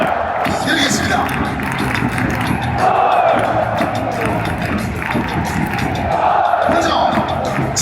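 Large stadium crowd at an FC Seoul football match applauding and cheering, a dense roar of clapping and shouts that swells and fades across the clip, with an announcer's voice over it.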